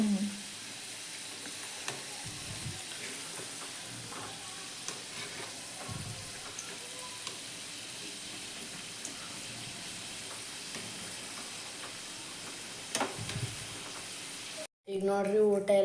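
Sandige crisps frying in hot oil for a festive home meal, a soft continuous sizzle with faint stirring and scraping over a quiet room, low in level throughout.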